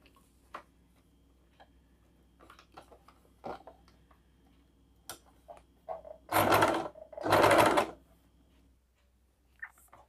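A sewing machine stitching cloth piping runs in two short, loud bursts close together, surrounded by quiet scattered clicks and small handling ticks.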